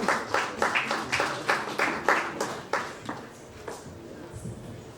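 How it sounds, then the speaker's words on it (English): Audience applause at a cricket league event as a guest is invited up, with distinct individual claps in a brisk rhythm that thin out and fade toward the end. "On a huge round of applause, please."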